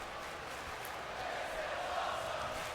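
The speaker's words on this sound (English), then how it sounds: "Crowd chanting, this is awesome" A WWE 2K20 wrestling arena crowd at an NXT Takeover event chants in a dense, steady roar, sustained and fairly distant, with no clear single voices standing out.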